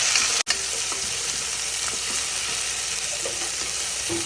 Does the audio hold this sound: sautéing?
yes